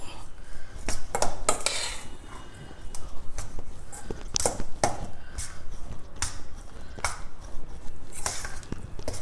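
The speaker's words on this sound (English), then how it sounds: "we will also add in this ground spice powder to it and mix everything together very well" Spoon scraping and clinking against a pan while gongura rice is mixed with ground spice powder, a run of sharp metallic taps and scrapes, close and fairly loud, no talking.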